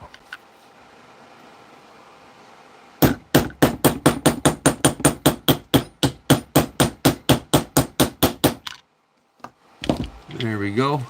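A brass hammer sets rivets on a knife, striking metal in a fast, steady run of about twenty-five sharp, close taps before stopping, with a voice speaking briefly afterward.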